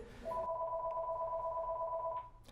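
A telephone rings with a steady electronic two-tone ring that holds for about two seconds, clear and close with no voices over it.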